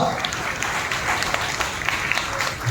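A church congregation clapping together during a Christmas sermon, a dense, continuous patter of many hands filling the room at moderate level, with voices mixed in.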